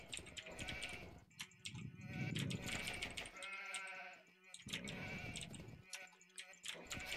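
Sheep in the Age of Empires strategy game bleat repeatedly over layered game sounds, several overlapping calls rising and falling across the stretch, fairly loud and with no talking.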